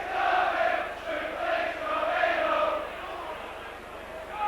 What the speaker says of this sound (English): Crowd in marvellous voice